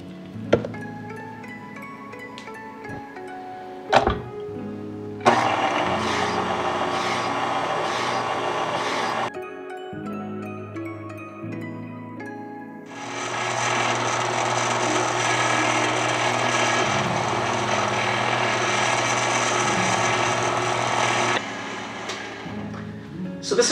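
A 1920s-style ice cream maker churning raspberry ice cream at stir speed, a continuous mechanical grinding whir that runs steadily, pauses, then resumes for a long stretch, loud and close.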